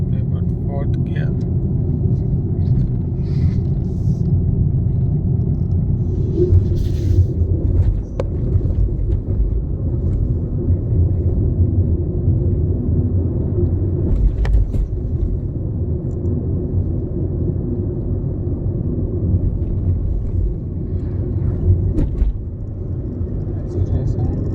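A Tata Altroz car driving in fourth gear, its engine and road rumble a steady low drone that fills the whole stretch, with occasional faint rattles and no talking.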